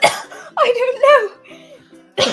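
Harsh coughing bursts at the start and end, with rough voiced, gurgling throat sounds between them, close and fairly loud.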